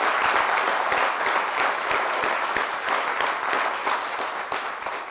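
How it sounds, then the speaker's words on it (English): A conference audience at the EuroGeoSurveys 50-year event gives the Secretariat staff a sustained round of applause, dense and loud, with many hands clapping together before it slowly tapers off. "I would like to everyone to give a round of applause to the amazing EuroGeoSurveys Secretariat staff"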